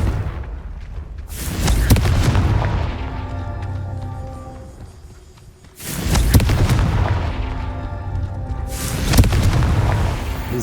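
Confringo curse blasts in the video game Hogwarts Legacy, three heavy booming explosions a few seconds apart, each a sharp crack that rolls into a long rumbling, crackling tail, with no voices.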